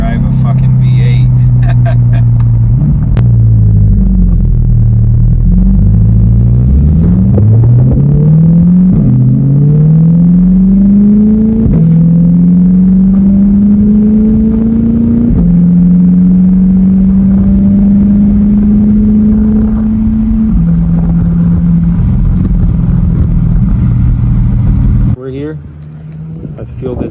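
A C8 Corvette Z06 V8 driving, its deep engine drone rising and falling through gear changes as the car accelerates and cruises, loud and close for most of the stretch before easing off near the end.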